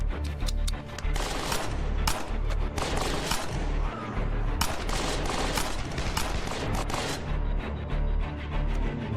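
Dense gunfire in the zombie survival game State of Decay, with loud rapid shots and bursts piling over one another continuously amid booming impacts.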